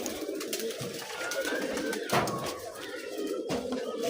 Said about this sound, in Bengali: এটা লাল পায়ের কবুতর